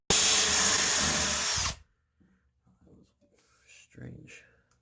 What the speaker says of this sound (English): here's the Milwaukee 1/8 drill bit with pressure